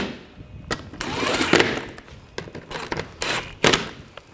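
Bolts being tightened on the water pump of a 2000-2006 BMW X5 3.0L inline-six, heard as short bursts of ratcheting and power-tool whirring separated by metallic clicks and brief pauses, close and fairly quiet, with no talk.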